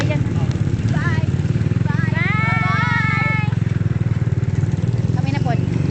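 A motorcycle engine idling nearby with a steady, loud low chugging throughout, while people talk over it and bird-like chirps rise above.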